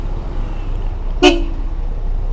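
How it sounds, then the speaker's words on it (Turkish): A single short, loud blast of a truck horn rings out over a low, steady road rumble. "Tır korna, minibüs korna"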